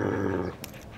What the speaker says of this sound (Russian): Ой, что за собачье волнение?